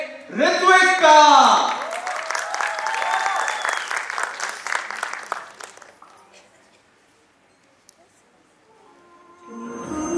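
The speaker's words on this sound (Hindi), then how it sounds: "जोरदार तालियों से स्वागत करिए ऋत्विक का" Audience applause and cheering welcome a performer at a wedding sangeet, a loud swell of clapping rising after a voice and fading out over several seconds, with a lull and faint sound returning at the end.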